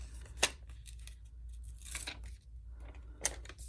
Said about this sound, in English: peel off the backing